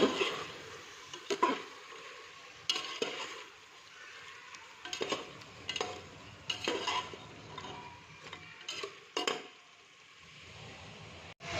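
A spoon stirs spices such as turmeric through a cooking pot for chicken shorba, with intermittent scraping clatters and knocks against the pot at close range, and no talking.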